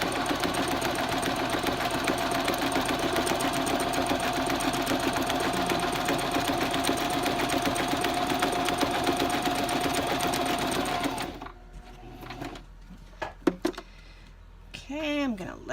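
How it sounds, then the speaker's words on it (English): A sewing machine stitching close along the edge of a tag runs steadily and loud for about eleven seconds in a fast, even whir of needle strokes, then stops, leaving a few faint clicks and handling noises. "Now I've started to sew here."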